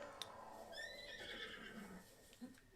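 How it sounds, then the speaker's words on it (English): A horse whinnies while being ridden in the Nintendo Switch game The Legend of Zelda: Breath of the Wild, a clear rising and falling neigh at moderate volume, with a soft hoof thud near the end. "horse riding in this game is a lot of fun"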